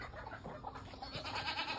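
Goats bleat briefly on a village farm that also keeps buffaloes and chickens, faint and a little distant over soft background noise.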